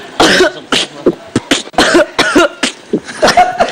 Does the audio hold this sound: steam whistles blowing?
no